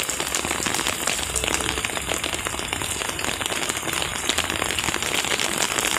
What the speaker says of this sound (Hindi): देखिए बहुत अच्छी बारिश हो रही है इधर